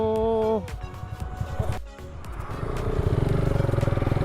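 A KTM RC 390 and a 150cc motorcycle pull away together, engines revving up from idle into a steady rising drone with some clatter, fairly close.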